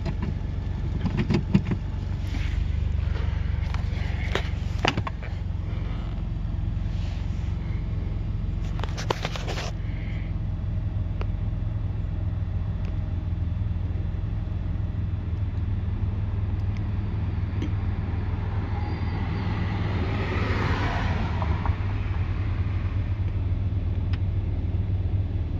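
A car engine idles steadily after an O2 sensor replacement, a low, even rumble held for about 25 seconds, with a few brief clicks and rustles near the start.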